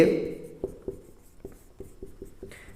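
Chalk or marker taps and strokes on a classroom board form a quick irregular series of about eight short knocks, close and clear, at a pace set by writing out a class 12 relations and functions math solution.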